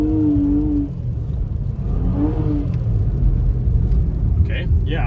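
A car with pronounced turbo lag and spiked winter tires pulls away on snow, its engine rumbling low and steady as it accelerates, with talk over it.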